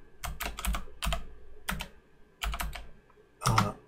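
Someone types a prompt on a computer keyboard, several short bursts of quick key clicks separated by pauses, close and clear with no talking.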